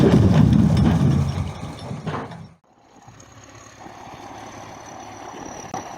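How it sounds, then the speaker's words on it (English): A TT-4 Soviet skidding tractor engine rumbles loudly, drops off abruptly, then settles into a quieter, steady idle with faint mechanical rattles. "the TT4, arguably the best Soviet-era skidding tractor ever built"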